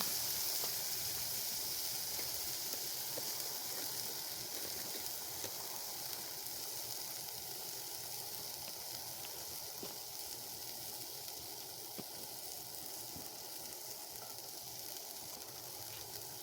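Buttered potatoes frying in a pan for a burnt ends hash cooked outdoors at the Grand Canyon, giving a steady, even sizzle and hiss that holds at a constant level throughout, with no talking.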